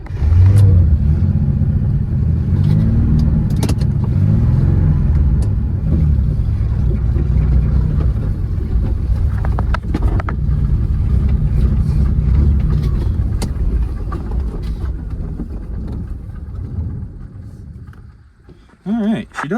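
An old Camaro rolls down the road for the first time in 36 years, with a sketchy idle and only one working brake. Its engine gives a loud, steady low rumble up close that eases off near the end.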